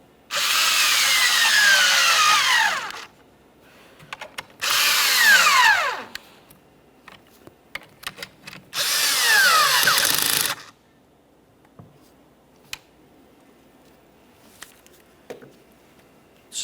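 A power drill snugging down the plastic intake manifold bolts on a 2007-2017 Jeep Patriot 2.4L four-cylinder, three loud whirring runs of about two seconds each, close up, separated by quieter pauses with small clicks.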